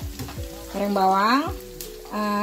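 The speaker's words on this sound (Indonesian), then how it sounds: "Jadi di dapur ini Umi lagi goreng bawang." Shallots fry in oil in a home kitchen with a steady sizzle throughout, while tonal, voice-like sounds rise and fall over it.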